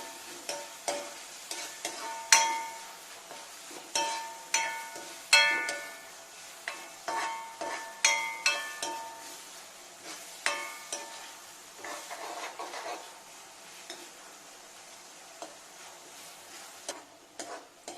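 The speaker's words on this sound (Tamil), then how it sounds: "தக்காளியில் நல்லா வதங்கி நல்லா கிரேவி மாதிரி வரட்டும்." Tomatoes sautéing in coconut oil with green chilies for a chilli chicken gravy, a soft crackling fry punctuated by repeated quick ladle scrapes and taps against the pan in an irregular rhythm; no talking.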